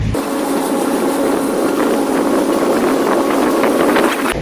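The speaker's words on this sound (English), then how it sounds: "Taking a boat tour right now to Lake Havasu" A tour boat motor drones continuously at close range on Lake Havasu, Arizona, mixed with rushing water and wind buffeting the microphone.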